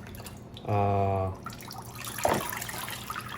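Water poured onto a potted oncidium orchid, a short, steady pour lasting under a second, then a brief splash and trickle, with a voice nearby.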